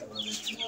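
Brief close-up sounds from a pair of pigeons, soft fluttery chirps and calls over a faint background hum, lasting under a second.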